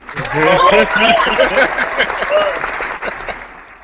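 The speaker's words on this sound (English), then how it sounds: "I got an applause for that." Loud applause fills the space, with crowd voices and cheers mixed in over the clapping throughout.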